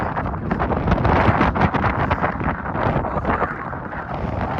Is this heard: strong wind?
yes